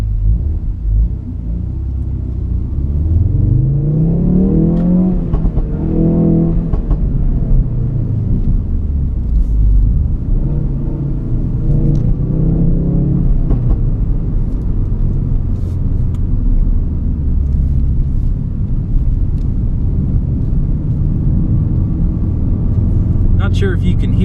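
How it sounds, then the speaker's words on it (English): Ford Focus RS driving on a track, its exhaust a steady low rumble and drone running throughout while someone talks over it. "Not sure if you can hear that, but that is the exhaust"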